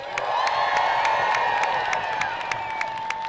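A large outdoor crowd at a No Kings Day protest cheers continuously, a dense wash of shouting and whoops with a few sharp whistles cutting through.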